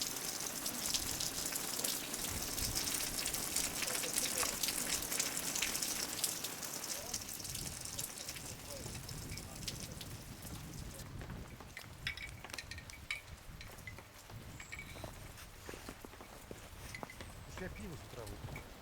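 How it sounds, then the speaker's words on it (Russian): Freezing rain falling on 25 December in Zhuravlyovo, a steady hiss of drops on surfaces with faint clinks, strongest at first and then softer, with a voice speaking over it. "Льет дождь."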